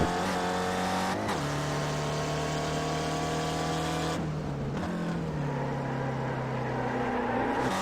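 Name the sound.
race car engine and tires squealing, video game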